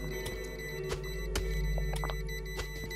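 Player-placed mines in the video game Killing Floor beep softly at irregular intervals, thin electronic chirps over a low, constant game hum, fairly quiet and with no voices over them.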